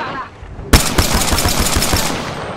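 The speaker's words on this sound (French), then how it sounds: "J'ouvre le feu sur l'ennemi" Rapid automatic gunfire in Apex Legends erupts suddenly after a quiet moment, a loud dense burst of close shots lasting over a second before cutting off.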